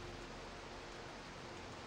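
Rain falls in the video game Minecraft as a soft, even hiss, faint but constant through the short stretch with no talking.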